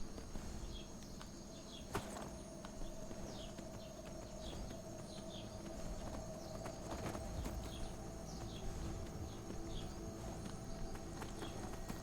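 A ridden horse's hooves clop in a steady, moderate rhythm in Skyrim, heard close and continuous over a busy game ambience with occasional bird chirps and no talking.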